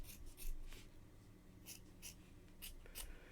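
Scissors snip through loops of yarn while trimming a tassel, a handful of short crisp cuts spaced irregularly, close and fairly quiet.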